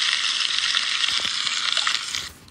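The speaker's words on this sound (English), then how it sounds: "now let's take this butter and sizzle it up." Butter sizzling in a frying pan in the cooking game Toca Kitchen 2, a steady bright hiss of frying that runs loud and even for about two seconds before cutting off.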